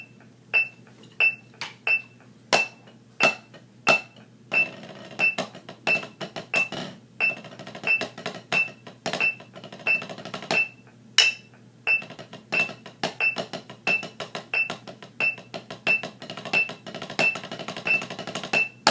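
Snare drum solo in a 2/4 feel, with crisp, evenly spaced strikes and occasional accented hits and flams, played alone at moderate loudness with a ringing overtone.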